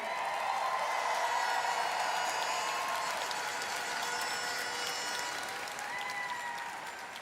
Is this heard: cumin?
no